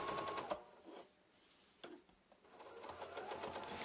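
A Bernina 830 sewing machine runs under free-motion quilting with a number 9 ruler foot gliding over a quilt sandwich, a close, fast mechanical stitching whir in short bursts with brief pauses between.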